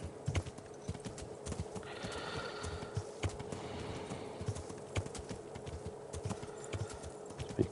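Horse hooves clip-clop steadily in the Kingdom Come Deliverance video game, a faint, even rhythm of close hoof strikes with a brief whinny-like tone in the middle and no talking.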